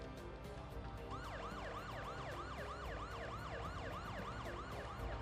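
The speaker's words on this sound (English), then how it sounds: "I really don't think you needed to turn on your sirens" A police car siren in the video game Parasite Eve wails in rapid repeating up-and-down sweeps, loud and continuous over a low engine and background rumble.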